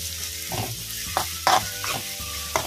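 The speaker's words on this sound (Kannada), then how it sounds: "ಈ ಶುಂಠಿ ಬೆಳ್ಳುಳ್ಳಿ ಪೇಸ್ಟ್ ಇದು ಹಸಿ ವಾಸನೆ ಹೋಗ್ಬೇಕು, ಅಲ್ಲಿವರೆಗೂ ಫ್ರೈ ಮಾಡುವ" Onion and ginger garlic paste fry in a pan for egg bhurji, a steady close sizzle broken by several scraping stirs of a spoon against the pan.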